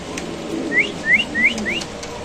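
Pigeons at a bustling pigeon market, with four quick rising whistled calls in a row over a low murmur of background noise.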